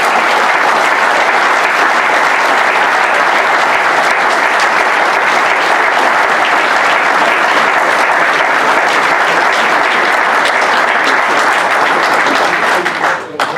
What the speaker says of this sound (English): put your hands together for our club custodian and owner, Mr. Patrick Cryne.